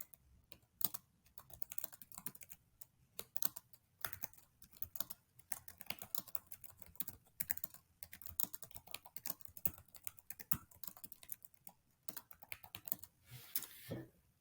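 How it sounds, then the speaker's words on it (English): Keys clatter on a computer keyboard in quick irregular bursts of typing with short pauses, close and fairly quiet, with no voice. "we're just going to type out some valuable information that would be worthwhile for notifying someone about this"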